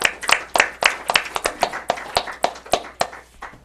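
After a spiritual service, a small gathering claps in sharp, irregular hand claps that come in quick succession and are heard close and distinct rather than as a dense roar.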